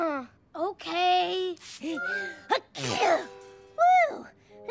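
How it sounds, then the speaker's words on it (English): A cartoon character lets out a loud, abrupt sneeze set off by perfume, amid animated dialogue and voices talking before and after it. "Achoo!"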